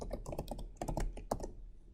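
Rapid typing on a computer keyboard while a string variable name is entered, a steady run of close, crisp key clicks with no talking.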